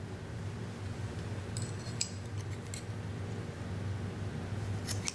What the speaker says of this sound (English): Now I'll chain 1 and I'll cut this yarn.